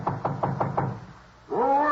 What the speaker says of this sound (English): went up to the 4th floor and knocked at the door